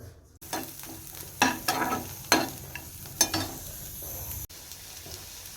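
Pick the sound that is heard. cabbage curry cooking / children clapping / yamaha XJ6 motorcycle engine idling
cabbage curry cooking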